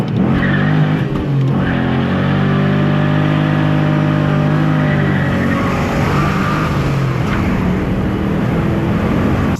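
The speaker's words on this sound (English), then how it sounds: "Can I do a burnout?" A motorcycle burnout: the engine revs hard and holds at high pitch while the rear tire squeals and skids, loud and close for the whole stretch, with no talking.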